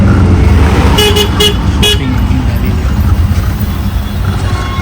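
Riding inside an auto-rickshaw through busy street traffic, with a loud, steady engine rumble and road noise up close and a quick series of horn toots near the start.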